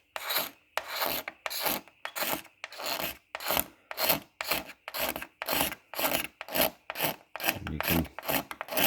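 A blade scraping faded, peeling lacquer off a headlight lens, a steady series of about fifteen rough, raspy strokes close by, each a short burst with brief gaps, with no talking.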